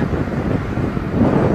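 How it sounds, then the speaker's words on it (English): Strong gusting wind buffets the microphone, a low rumbling roar that swells and eases throughout. "A heavy windy day."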